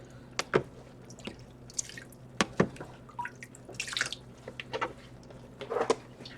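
Water poured into a dye pan for low-immersion yarn dyeing, heard as scattered close splashes and drips in short uneven bursts, with no talking.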